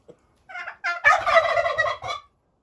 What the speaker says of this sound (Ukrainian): Красончики індики.